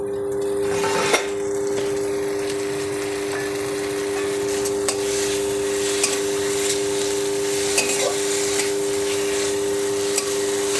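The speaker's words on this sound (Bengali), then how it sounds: "এরপর সব কিছু ভালো করে নাড়াচাড়া করে শুকনো শুকনো করে রেঁধে নেব।" A spoon stirs and turns potol dorma filling as it fries dry in a pan over raised heat, a steady scraping sizzle that runs throughout over a constant background hum, with small clicks of the utensil against the pan.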